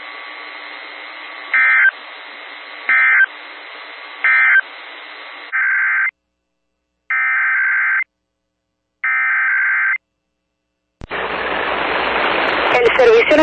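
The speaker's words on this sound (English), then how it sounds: "This has been a test of the NOAA Weather Radio Warning Alarm device." NOAA Weather Radio warning alarm test tone: several loud, steady electronic beeps in a regular on-off pattern, then longer sustained tone bursts separated by silence, followed by a burst of broadband static-like noise at the end.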